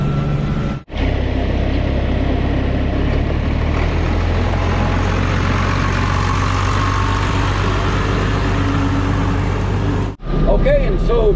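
Big International Harvester 1086 farm tractor engine running, a loud, steady low diesel rumble close by that holds throughout, with two brief dropouts.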